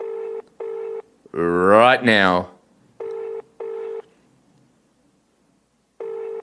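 A prank phone call, with DTMF dialing tones beeping in short pairs, then a burst of loud talk, then more paired keypad beeps.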